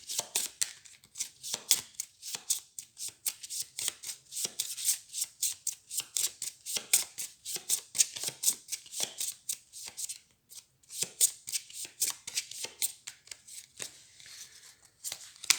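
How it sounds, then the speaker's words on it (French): A deck of Xenoshyft game cards is riffled and shuffled repeatedly at close range: a fast, crisp stream of flicking card bursts in quick rhythmic runs, with a brief pause near the end before the shuffling resumes. "Je mélange."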